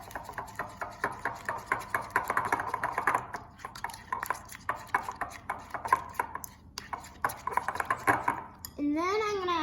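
Purple slime being mixed with glitter, giving a rapid run of wet slapping, squelching strokes up close, with a short burst of another noise near the end.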